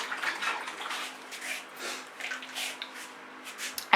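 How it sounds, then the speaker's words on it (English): Running water splashes over paint-covered hands, acrylic from fluid pouring, as they are rinsed close by. Short bursts of splashing and squishing rise and fall over a low steady hum, ending in a sharp knock. "they're on my hands and I'm going to rinse my hands off"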